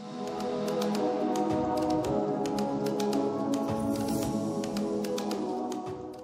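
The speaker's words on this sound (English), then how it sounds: "Kirby got that dreaded clicking noise and you don't know why?" A Kirby Avalir upright vacuum cleaner runs with a steady motor hum while a rapid, irregular clicking rattles over it, close and continuous.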